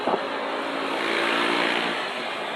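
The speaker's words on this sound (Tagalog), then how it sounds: "Traffic." Road traffic rushes past nearby as a continuous, fairly loud whoosh of passing car engines that swells slightly midway, with no talking.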